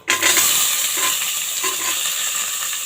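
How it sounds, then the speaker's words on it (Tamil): Sliced onions drop into hot oil for a mutton curry and burst into a loud, steady sizzle that holds evenly from start to finish, with no voices. "இப்போ நம்ம வெங்காயம் போட்டுடலாம்"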